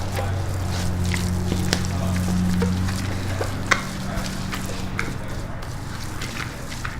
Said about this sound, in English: I'm going to stir that up as well.